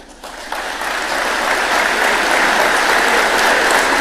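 Applause in parliament after a speech by Milei swells from a scattered start into dense, sustained clapping from a large crowd, loud and continuous throughout.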